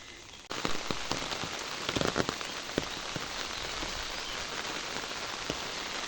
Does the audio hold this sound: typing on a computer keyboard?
no